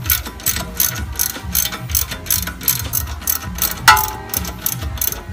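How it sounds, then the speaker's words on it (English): Socket wrench with a 17 mm socket ratcheting rapidly to unscrew a strut bolt on a 2007 Kia Spectra, a steady run of close, loud clicks with no talk. "17 millimeter wrench and a socket, so forth. And you're just gonna unscrew."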